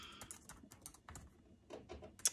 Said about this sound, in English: Having to like type everything.